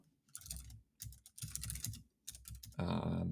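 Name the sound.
typing on a computer keyboard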